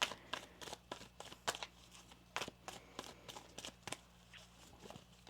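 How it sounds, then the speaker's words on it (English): Quiet shuffling of tarot cards, a series of soft irregular riffling snaps and slides close by, with no talking. "One more shuffle here."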